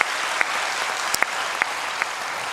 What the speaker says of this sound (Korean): 우리 하나님께 감사와 영광의 박수를 올려드린 저와 여러분 되시면 좋겠습니다